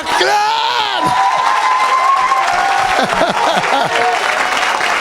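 A church congregation applauds and cheers loudly, with a sung note and shouted whoops rising over dense clapping that continues throughout.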